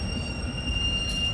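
Inside the Kanniyakumari special express coach, a steady low rumble and hum fills the air without a break, with a thin constant whine riding above it.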